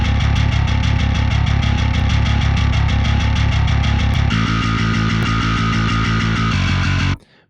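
Heavy bass guitar from a metal mix for Architects' "Animals," processed with warm tape distortion boosted around 50%, playing loud, driving repeated low notes that shift to a lower sustained pattern midway before cutting off abruptly near the end.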